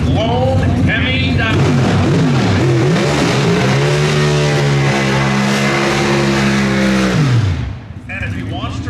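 A Pro Stock drag race car with a Hemi engine, qualifying at the 2023 NHRA Winternationals, roars loudly for about seven seconds, its pitch rising as it accelerates, then cuts off abruptly, with an announcer talking over it.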